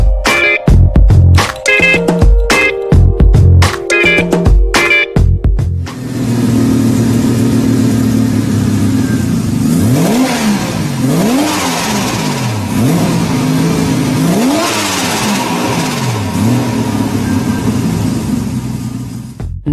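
A Mazda 13B sequential twin-turbo rotary engine barks through sharp, choppy bursts, then settles into a loud, sustained roar that rises and falls as it revs up and down several times.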